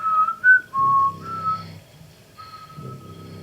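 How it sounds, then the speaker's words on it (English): In a scene from The Walking Dead season 3, episode 14, a person whistles a short run of clear rising and falling notes close by, pausing between phrases over a faint low murmur. "Scaring Andrea with a whistle."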